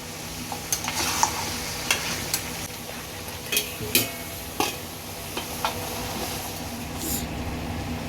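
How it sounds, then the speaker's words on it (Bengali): Mutton cooking with spices in a pot over a medium gas flame, a steady sizzle with intermittent scraping and clinking of a stirring spoon, close and continuous, no talk. "এবার ঢাকা দিয়ে এই মাংসটাকে মশলার সাথে কষা হবে"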